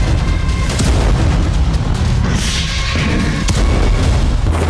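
Explosions shake Kyiv in a loud, dense wash of deep booms and rumbling that runs throughout with no pauses. Individual blasts blur together in the continuous roar.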